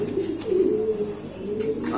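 Lahori pigeons at a pigeon farm give soft, low cooing calls, a few close, gentle throaty phrases in quick succession against a quiet background.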